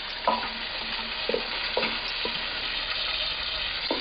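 Runny spice paste sizzling in a hot pan, a steady close hiss broken by several scraping stirs at irregular intervals, no voices.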